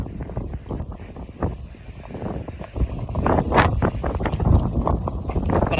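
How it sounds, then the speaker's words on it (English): Gusting wind buffets an outdoor microphone beside an old countryside church, with a low, uneven rumble that rises and falls and grows stronger toward the end, moderately loud throughout. "Very blowy today, so I hope you can hear me."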